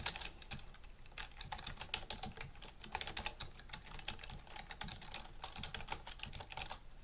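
Computer keyboard typing while configuring a Cisco switch, a steady close-up stream of clattering keystrokes with short bursts and uneven rhythm, without voices.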